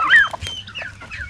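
A farm chicken lets out a quick series of close, loud clucks with a higher squawk at the start, all over in about a second, with no other sounds around it.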